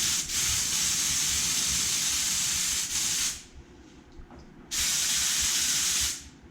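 A paint spray gun fires test shots into a garbage can in a loud room. Two long, harsh hissing bursts of about three seconds and a second and a half are separated by a quieter gap with low background rumble.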